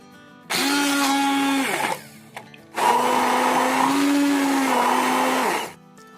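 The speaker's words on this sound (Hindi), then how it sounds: "अब इसको हम ग्राइंड करेंगे। मेरे पास ये हैंड बीटर है, मैं इससे कर रही हूँ।" An electric hand beater grinding green chillies, a loud close whine in two bursts, the first about a second long and the second longer and steadier, with a short pause and a faint knock between them.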